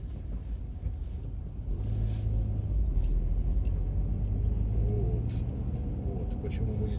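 A car drives along a street on a cold, windy day, with a steady low engine and road rumble throughout that swells slightly as it moves, while people talk inside.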